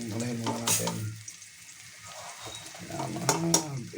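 Ginger frying in a pan while being stirred, sizzling with scraping stirs and utensil clinks, loudest at the start and end, with a voice briefly present.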